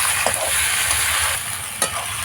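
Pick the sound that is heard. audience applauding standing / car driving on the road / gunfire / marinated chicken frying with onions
marinated chicken frying with onions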